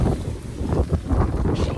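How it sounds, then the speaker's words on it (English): Strong gale-force wind buffeting the microphone high up on a ladder by a garden pond pergola roof, a loud rumbling, gusty roar throughout with no clear voices. "it's very windy up here"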